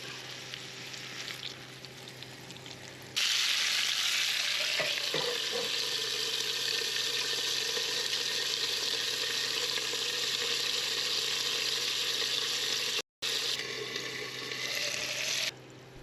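Pork chops frying in olive oil in a covered non-stick pan, a loud continuous sizzle and crackle that fills the background, briefly cutting out near the end.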